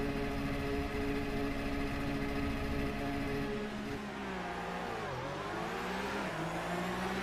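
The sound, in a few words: Porsche race car engine revving at start, eSports racing video game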